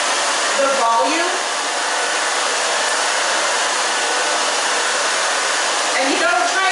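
A handheld hair dryer roars continuously and close up while hair is dried with a root lifter product, its airflow changing briefly at the start and end as the dryer moves across the head.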